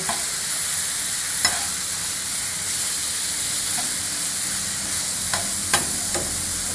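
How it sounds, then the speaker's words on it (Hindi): Chicken frying on a hot plate for restaurant-style shawarma, a steady close sizzle and hiss broken by a few scraping stirs of a utensil. "मैं अब चिकन को हॉट प्लेट पे पकाऊँगा। इसे थोड़ा सा हिला के"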